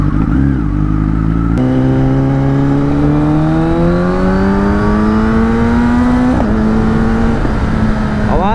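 Kawasaki Ninja ZX10R motorcycle engine pulling steadily while being ridden, its rising whine climbing through the gears with brief dips at shifts, loud and close against constant wind rush.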